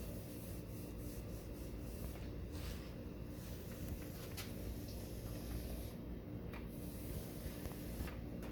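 Rust-Oleum appliance epoxy sprayed onto a refrigerator, a steady continuous hiss with faint rubbing and a few short bursts, close and unbroken with no talking.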